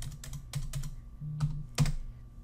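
Someone types on a computer keyboard nearby, with several quick, quiet key clicks in an uneven rhythm and a couple of louder taps near the end.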